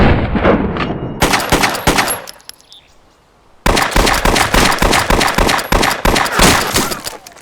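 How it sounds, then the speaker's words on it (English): Rapid bursts of Red 9 Mauser C96 pistol fire in DayZ, loud sharp shots at roughly six per second, with a brief pause before a second long string of fast shots. "the Red 9 fires close to 6 rounds per second at a maximum"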